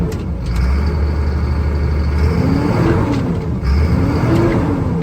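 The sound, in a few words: 1998 Chevrolet C6500 diesel truck engine starting and revving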